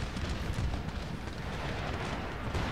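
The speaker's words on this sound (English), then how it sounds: "Mortars can continue to fire at these guys on the way out." Mortars firing in Empire Total War, a dense, continuous low rumble of distant booms and battlefield din with no distinct single blasts.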